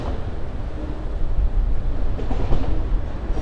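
A very long freight train passing in downtown Atlanta, Georgia: a steady low rumble and rolling rattle of rail cars, fairly loud and continuous, with no talk.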